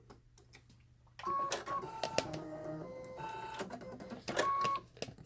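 Brother Dream Creator Innov-is VM 5100 sewing machine threading itself, a quiet start and then a busy run of whirring motor tones, clicks and mechanical ticks at close range, no talk.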